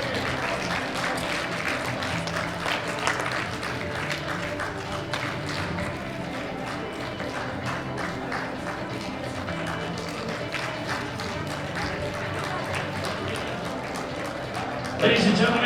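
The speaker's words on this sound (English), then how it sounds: "Give them a big round of applause now." Crowd applause and cheering at the women's 63 kg World Open Powerlifting Championships, sustained dense clapping across the arena with a brief louder burst near the end, with talk and voices mixed in.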